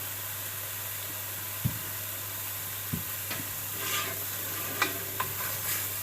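Meat for chili fries in a pan with a soft, steady sizzle and hiss over a low hum, broken by a few sharp taps and scrapes of stirring.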